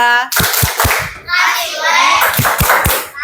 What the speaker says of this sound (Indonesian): Kasih tepuk wow untuk kelompok 2.